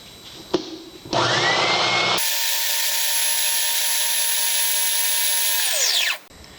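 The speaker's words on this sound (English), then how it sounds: "I'm just gonna use a little spindle sander" A spindle sander spins up and runs steadily with a high whining drone, grinding inside the hole of a wooden ring, then winds down and stops.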